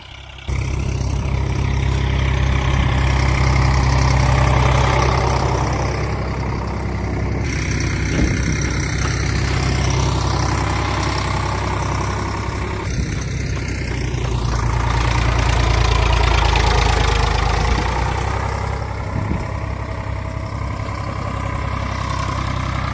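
A tractor engine idles on a farm field, a loud, continuous low rumble with steady throbbing that swells and eases slightly over about twenty seconds, with no talk over it.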